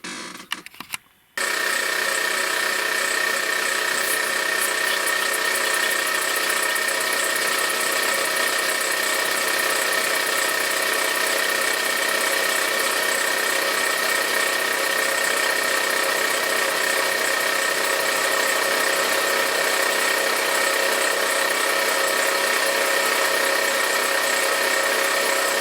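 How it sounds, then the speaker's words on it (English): An air compressor runs steadily after a short burst of handling noise at the start, a loud, even mechanical drone with a constant whine that continues unbroken for the rest of the clip. "I'm going to pump it up and then put the compressor on as well, so it does it quickly for us"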